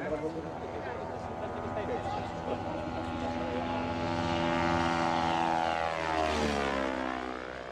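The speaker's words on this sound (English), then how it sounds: "is a passenger on a light aircraft, a sky aeroplane" Light aircraft propeller engine in flight at a March air show in Comiso, a loud continuous droning hum that swells and shifts in pitch as the plane passes, with a voice speaking over it.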